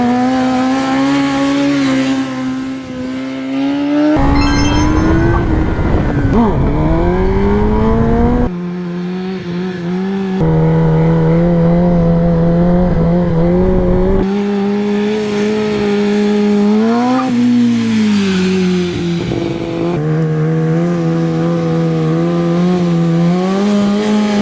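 A track motorcycle engine with a quickshifter revs hard and close, its pitch climbing and then dropping sharply at each quick gear change, with several shifts over a continuous loud run.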